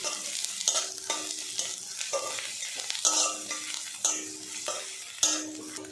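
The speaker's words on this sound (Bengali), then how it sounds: "আর একটু নাড়াচাড়া করে ভেজে নেব।" Onion, garlic and spices with black cumin and chili flakes fried in oil, a spoon stirring in repeated scraping strokes over a soft sizzle, close and alone.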